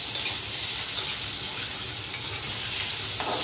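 Potatoes fry in a pan with a steady, close, bright sizzle of hot oil, cooking until crispy, with faint stirring scrapes and clicks and no voice.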